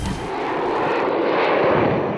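Attack helicopter, a Cobra, firing live combat munitions during a training exercise: a loud, continuous roar and rumble of gunfire and rotor noise with no pauses, with no talk.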